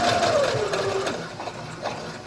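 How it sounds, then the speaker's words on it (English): A domestic sewing machine running slowly while stitching a patch pocket with a flap onto fabric, a continuous close whirring hum with a pitch that slides down as it slows, and faint clicks near the end. "Make sure you reverse stitch it. This machine is so much slower than my other one."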